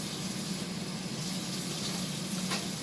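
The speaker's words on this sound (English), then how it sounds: "I hope you guys can hear me over this water." Tap water runs steadily into a sink during home cooking of a Super Bowl dinner with chicken wings, a constant hissing splash close by with no one talking.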